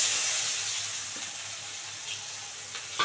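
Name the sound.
chopped onions frying with cardamom and cinnamon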